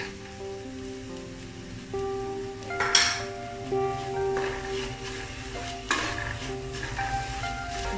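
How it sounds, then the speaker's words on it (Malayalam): Ginger garlic paste stirred into frying small onions for a Kerala mutton curry: a steady sizzle with intermittent spoon scrapes and a sharp clatter against the pan, close up and without speech. "ഇനി ഇതിലേക്ക് ഇഞ്ചി വെളുത്തുള്ളി പേസ്റ്റ് 1 ടേബിൾ സ്പൂൺ ഇട്ട് ചേർത്ത് ഇളക്കി കൊടുക്കാം."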